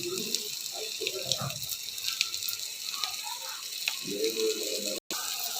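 Water pours into a pan of fish curry spices for a curry with whole potatoes, a continuous splashing gush with light rattles and a brief cut-out near the end.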